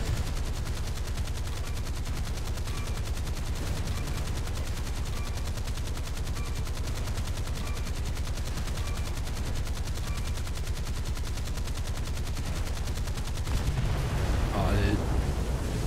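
Close-defense naval guns in the video game War Thunder fire automatically in a long, relentless stream of rapid shots, with heavier booms rising near the end.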